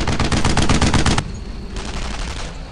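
A close, loud burst of rapid machine gun fire, about a second long, in the World War II shooter Brothers in Arms: Earned in Blood, then a quieter stretch of distant gunfire.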